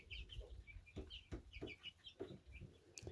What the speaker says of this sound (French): Bon bah on a des poussins du coup.